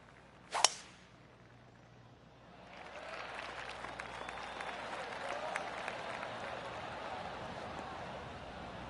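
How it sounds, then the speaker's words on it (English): Golf crowd applause from the video game PGA 2K25 swells in softly after a single sharp strike and keeps going as a steady, distant patter of clapping from spectators around the course. "I can hear the golf claps around the course."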